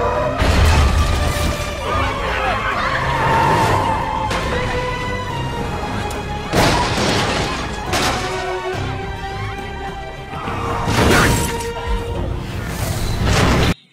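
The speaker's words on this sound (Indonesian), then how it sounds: "dia membuat semua mobil tabrakan." Repeated loud smashes and crunching impacts from cars colliding on a road in an anime, bursts of crashing debris and whooshes spread across the scene, with some faint voice-like sound mixed in.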